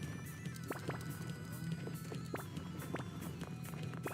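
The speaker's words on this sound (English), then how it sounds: "Horses." Horses run at a gallop with quick, faint hoofbeats over a low steady background rumble. The sound is soft and seems distant.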